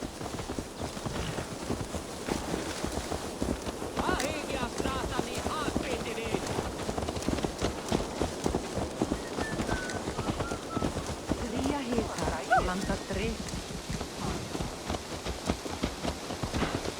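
Horse hooves clip-clopping steadily in Assassin's Creed Valhalla, a continuous trotting rhythm through the whole stretch, with voices talking over it at times.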